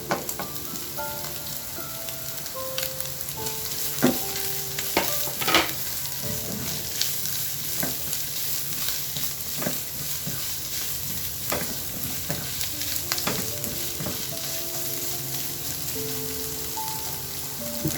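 Ginger and garlic sautéing with oiled ground meat in a pan for a Bikol Express-style dish: a steady, close sizzle broken by repeated scraping stirs and utensil clicks, with no talking.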